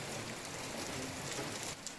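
Rain falls outdoors in a steady, even hiss of soft patter that continues unbroken throughout, with no voices.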